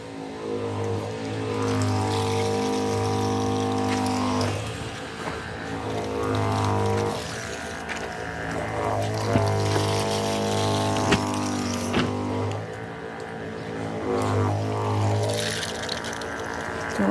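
A liquid sprayer mists raspberry bushes against disease, a steady hissing spray broken by short pauses and bursts of pumping, close and continuous with no talk.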